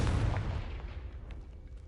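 A Confringo blast spell fires in Hogwarts Legacy: a loud, rumbling explosive boom that starts big and decays over a couple of seconds, with low-end thunder and scattered crackle trailing off, no voices.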